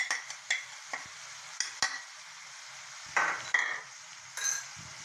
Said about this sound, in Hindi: इसे अच्छी तरह हिलाएंगे ताकि ये तमाम अशिया इन प्याज़ों में मिक्स हो जाएं